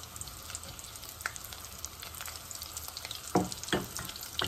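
Falafel patties fry in hot oil with a steady close sizzle and bubbling, broken by a few sharper crackles and pops near the end; no one speaks.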